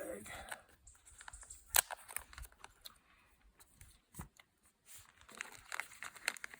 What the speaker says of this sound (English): again, another plastic bag.